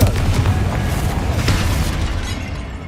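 A Confringo fire-blast spell explodes in Hogwarts Legacy, producing a sustained booming, crackling rumble that rolls on for a few seconds with no speech.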